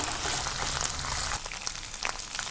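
Ginger and onion fry in a pan with a dense, steady hiss and crackle up close. The sizzle eases slightly partway through and goes on with scattered pops.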